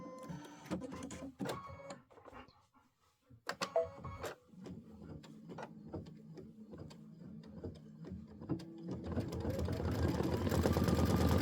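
An Aveneer embroidery machine stitching, giving a busy run of rapid mechanical ticks and whirring strokes, with a short lull before the motor noise builds and grows louder toward the end.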